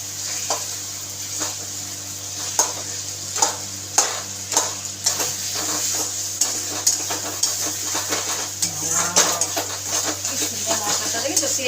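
Potatoes stirred into sizzling spice masala for ghugni, with a steady frying hiss under frequent scraping, clinking spoon strokes against the pan.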